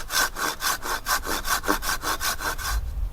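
A Zombat hand saw cuts through a tree branch in quick, even back-and-forth strokes, about a dozen rasping passes close by with no talk.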